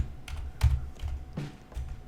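Fingers typing on a computer keyboard while entering network settings, several soft separate key taps at an irregular pace, close and fairly quiet.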